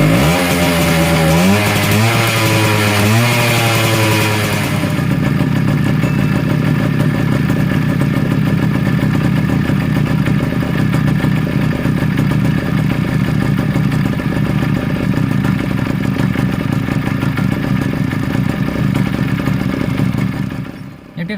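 Suzuki Max100 motorcycle engine kicked over with rising starter strokes, catching after a few seconds and then settling into a steady, rattly idle, loud and close, with occasional talking over it.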